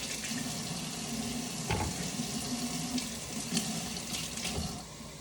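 Carrots heavily caked in dirt are rinsed under a running tap, a steady broadband rush of water with occasional splashy bumps as the roots are turned, continuous and fairly close for about five seconds.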